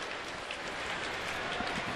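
Steady rainfall, a constant hiss of drops pattering on surfaces, moderately faint and unbroken.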